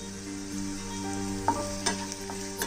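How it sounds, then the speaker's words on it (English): Onions, green chilies, ginger and garlic stir-frying in hot oil for veg Manchurian, a steady close sizzle with a few spatula scrapes near the end. "Stir it well on high heat."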